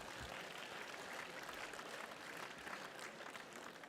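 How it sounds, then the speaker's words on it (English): Students at a national conference of CA students clap in sustained applause, a uniform wash of many hands at low level with no talk over it. "I want all of you to give a good round of applause for this entire team."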